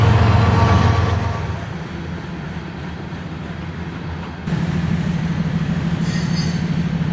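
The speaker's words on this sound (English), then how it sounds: "oh look, a train." A train rolls past close by with loud, continuous wheel squeal and heavy rumbling that surges again partway through, with no talking.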